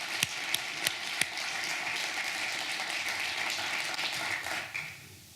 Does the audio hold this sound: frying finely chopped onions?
no